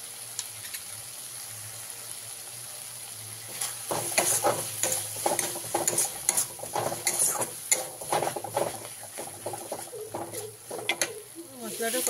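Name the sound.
frying and stirring spice paste with water in pan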